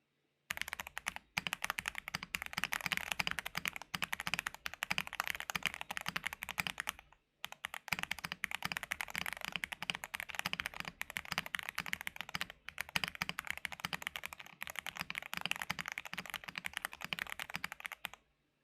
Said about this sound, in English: here's the typing test of the Tiger 80 Lite with Gateron X switches, PBT fans, PC plate, all foams